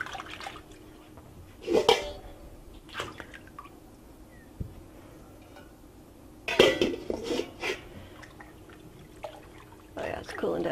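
Wet splashing and dripping as spinach is moved into a sink of cold water, with a few louder sloshes of water and light clinks of dishes, while someone talks nearby.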